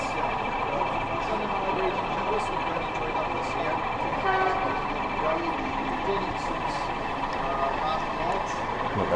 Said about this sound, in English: We'll just follow this Loco off the show scene into the fiddle yard.